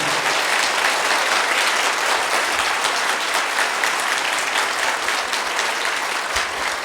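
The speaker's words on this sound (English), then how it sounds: "Give a big round of applause to Swami." A large temple crowd applauds after a Sri Venkatesa discourse at SV Lotus Temple, loud sustained clapping from many hands that stays thick and even for nearly seven seconds without any speech.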